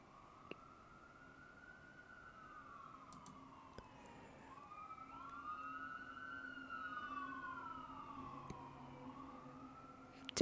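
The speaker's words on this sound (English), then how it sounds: "I apologize if you hear all the ambulances and sirens and wee-woos." Ambulance sirens passing outside: several wailing tones rise and fall and overlap, heard at a distance and growing a little louder before a sharp knock at the end.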